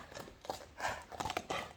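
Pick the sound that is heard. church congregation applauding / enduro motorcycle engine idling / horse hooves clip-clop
horse hooves clip-clop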